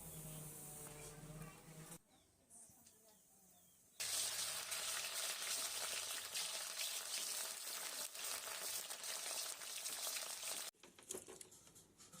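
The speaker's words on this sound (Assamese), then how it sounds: "এইখিনি বইল হোৱালৈকে মই বেঙেনা আৰু উৰহিখিনিও ভাজি ল'ম।" Eggplant and hyacinth beans fry in hot oil in a pan, giving a steady loud sizzle with brief quieter gaps where it drops away.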